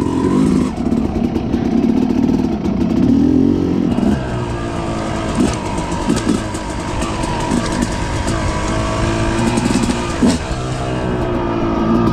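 An old Yamaha YZ four-stroke motorcycle fitted with an aftermarket exhaust idles and revs loudly and close, its engine note climbing and falling repeatedly.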